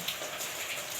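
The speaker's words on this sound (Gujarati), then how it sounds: "અત્યારે વરસાદ તો ફૂલ શરૂ છે" Steady rain patters and hisses continuously, a dense, even wash of droplets with no voices.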